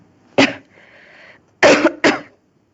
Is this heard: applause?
no